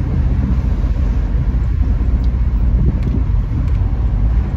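A Triumph Stag's engine burbles steadily nearby, a continuous low rumble with no speech over it.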